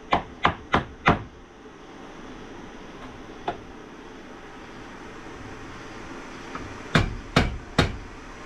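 Sharp strikes from an improvised hammer in two quick bursts of four and three, with one lone knock between, ringing out against a quiet room.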